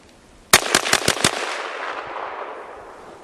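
Five rapid shots from an SKS rifle at a shooting range, sharp loud cracks in quick even succession, followed by a decaying echo tail with no talking.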